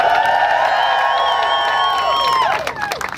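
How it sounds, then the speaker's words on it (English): A rally crowd for the HB 13 bill cheers and whoops together in a loud, sustained swell that fades out after a few seconds. "Let's give them a cheer."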